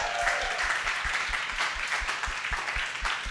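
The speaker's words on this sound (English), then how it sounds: "let's give ourselves a round of applause." Audience applause at a cooking presentation on the south side of Chicago, a steady dense wash of many hands clapping continuously for a few seconds without speech.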